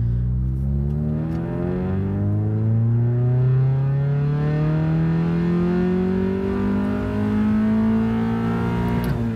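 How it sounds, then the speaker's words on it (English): A car revs hard in second gear from about 1500 RPM up to redline, its engine note climbing steadily in pitch across one continuous loud pull, heard close with no talking. "what I'm going to do is I'm going to make a couple of runs in second gear from 1500"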